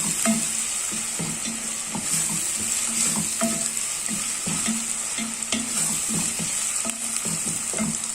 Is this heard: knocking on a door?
no